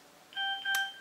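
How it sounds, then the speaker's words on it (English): A mobile phone gives off a short electronic beep: two steady tones, each held for about a quarter second, with a brief click between them. The sound is quiet and close, and nobody speaks. "excuse me, that's my phone."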